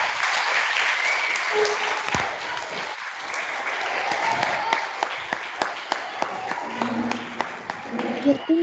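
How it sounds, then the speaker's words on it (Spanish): Applause for all the students rises from a school gathering, a moderately loud wash of clapping that thins into a few distinct individual claps near the end. "os querían dar un aplauso a todos"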